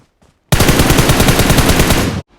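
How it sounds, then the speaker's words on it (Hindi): A single long burst of rapid automatic gunfire in PUBG Mobile, loud and steady, lasting under two seconds before cutting off abruptly. "लेकिन तभी मुझे गोलियां चलने की आवाज़ आती है पीछे साइड से"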